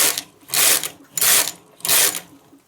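A knitting machine carriage racing across rows of a knotted shawl scarf, three loud whooshing-clattering passes in a regular rhythm with short quiet gaps between.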